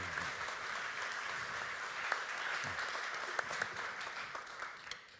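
Sustained applause from a large conference audience welcoming the new INSEAD board chairman at the GBLC Vienna 2015 alumni event, a steady wash of many hands clapping at moderate distance, with a few sharper individual claps standing out and no speech.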